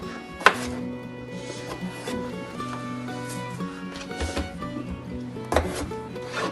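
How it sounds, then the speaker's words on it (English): A knife chops potatoes into halves and quarters on a cutting board in a country kitchen, with a few sharp knocks standing out over a low, steady background hum; no talking. "So a simple way for your potatoes, cut them in half, and then in fourths, and then cut your halves."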